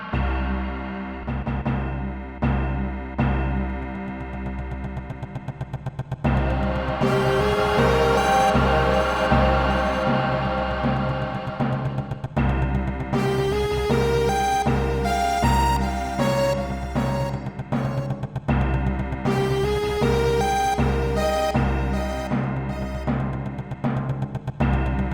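Big, menacing orchestral cue for the first visit to the power plant in a Final Fantasy VII audio adventure, with sustained low drones under layered, pulsing brass and strings that swell loudly after a quieter opening and stay dense throughout, no voices.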